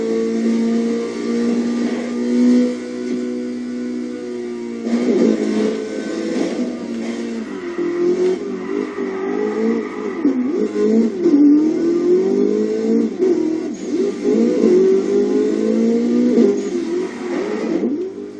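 A car engine revs hard during a Burnout Paradise race, loud and close. Steady engine tones climb and fall through repeated gear shifts, and the pitch shifts sharply about a third of the way in.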